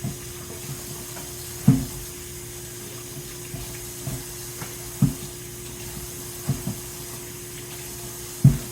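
Tap water running steadily into a sink while produce such as tomatoes is rinsed under it, a soft continuous wash broken by a few brief splashes and knocks.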